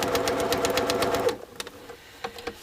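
Sewing machine running unthreaded, its needle punching holes through four stacked fabric layers: a steady rapid mechanical clatter for about a second, then stopping, followed by a few faint isolated clicks.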